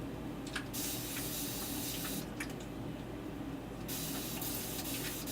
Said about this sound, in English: Spraying it, I feel like I'm spraying it quite a bit,